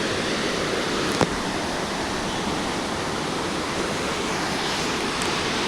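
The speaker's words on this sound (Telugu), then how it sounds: "ఇక్కడ మంచి వాటర్ ఫాల్స్ నుంచి వచ్చే వాటర్ దిగడానికి ఉండదు, కొట్టేస్తుంది వాటర్" A waterfall in Old Manali sends water rushing in a dense, loud, unbroken roar with one brief sharper knock near the start, no voices.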